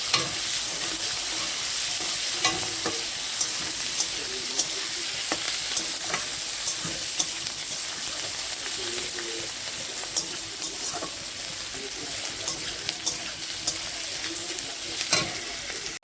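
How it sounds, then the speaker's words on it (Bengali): Onions sizzle and fry steadily in hot oil in a pan after the tempering spices, with a continuous crackling hiss and occasional stirring clicks, close and alone. "এখন পেঁয়াজটা ভালো করে ভেজে নেব"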